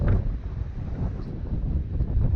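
Gusty wind sweeps over a small cliffside pond in the North Cascades, a constant low roar pressing on the microphone in a short burst without any talking.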